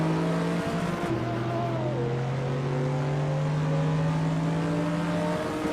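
A 2015 Ford Mustang in the Assetto Corsa racing sim pulls hard at Barbagallo Raceway, its engine note droning steadily and climbing slowly in pitch as it accelerates, loud and continuous with no talk.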